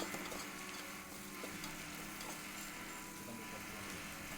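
Chopped onions frying in a pan for upma, a steady, fairly quiet sizzle with faint stirring and scraping running evenly throughout, with no voices.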